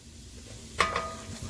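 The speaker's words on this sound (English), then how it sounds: "You wanna go ahead and lightly add it in at first and start to stirring." Flour is stirred into hot canola oil for a roux, a soft sizzle with a spoon scraping the pan and a brief sharper clatter midway, close and fairly quiet.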